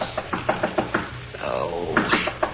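Repeated knocking on a hotel room door, sharp raps in quick groups of two and three, fairly close and loud, with a brief stretch of other noise between the bursts.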